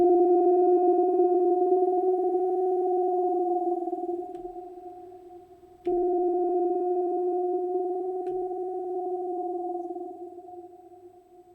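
Granular sound with heavy reverb played on a teenage engineering EP-133 K.O. II sampler, a sustained smooth two-layered drone that slowly fades, restarts with a soft click, then swells and fades again.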